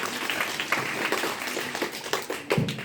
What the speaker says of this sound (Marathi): धन्यवाद व्यंकटेश साठी एकदा जोरदार टाळ्या